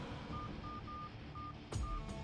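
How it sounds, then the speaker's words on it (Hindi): A telephone number is dialed in a film scene, giving a run of short, evenly spaced keypad tones, fairly faint, ending in a brief louder clunk. "विजय को फोन लगा।"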